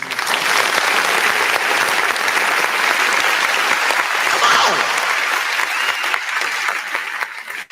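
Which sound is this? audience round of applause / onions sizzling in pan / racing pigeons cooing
audience round of applause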